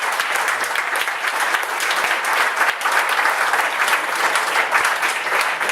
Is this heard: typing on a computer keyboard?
no